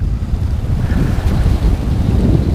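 A chilly breeze buffets the microphone outdoors during fishing, a steady low rumbling roar of wind noise throughout, with no voices.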